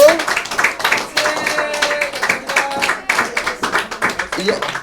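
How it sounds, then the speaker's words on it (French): A small gathering claps for the cooks after a shared meal, uneven close-up clapping in irregular bursts with voices chattering throughout. "On peut l'applaudir, tous ceux qui font la cuisine."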